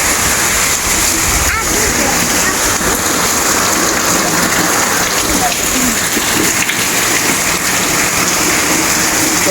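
Heavy rain pours down steadily on a farm where sampaguita is grown, a dense, loud, continuous hiss of drops splashing on surfaces that never lets up.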